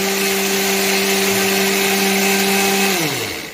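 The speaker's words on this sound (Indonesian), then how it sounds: "sebentar lagi akan digilir di blender" An electric blender grinds pounded cloves for homemade clove soap, giving a loud, steady motor whine that slows and winds down just before the end.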